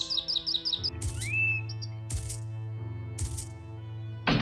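A pet canary chirps in short tweets at the start, then scattered rattling and clattering bursts sound over a steady low hum, with a brief rising whistle and occasional sharp knocks.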